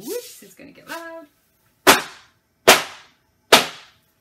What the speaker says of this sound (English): I'm just going to give this a quick tap on the floor here.